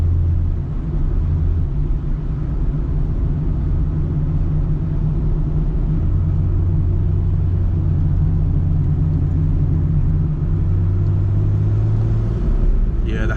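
Steady interior drone of a Toyota Supra RZ-S driving on roads in Japan, low engine hum and road rumble holding constant throughout with slight tonal shifts as the engine note changes, no talking.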